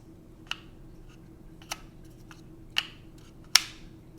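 Small earbuds charging case lid snapping shut, four short sharp plastic clicks spaced about a second apart, close and crisp against a quiet background, the last one loudest.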